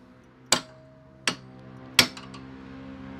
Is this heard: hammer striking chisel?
yes